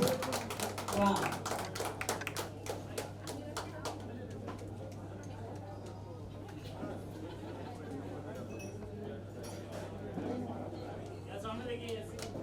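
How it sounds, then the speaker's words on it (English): Scattered audience clapping at a launch event for the Eyesflix OTT streaming platform, with sharp hand claps near at the start, thinning to light applause under crowd chatter and a steady electrical hum. "Can we hear a huge round of applause"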